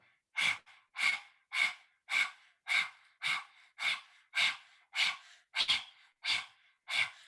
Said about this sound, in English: take a big inhale, and begin panting like a dog